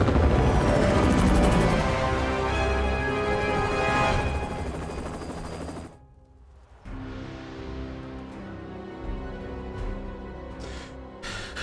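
Hydra helicopter gunship in the video game Marvel's Midnight Suns, its loud rotor din running steadily amid dense battle sounds, dipping briefly before carrying on.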